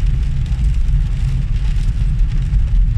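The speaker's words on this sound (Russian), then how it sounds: "Дождик усилился." Heavy rain drums steadily on the roof and windshield of a moving car, with a constant loud wash and low road rumble underneath and no voices.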